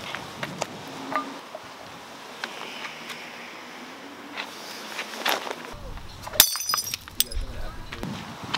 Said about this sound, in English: Just throw in the bottle and see the glass shatter.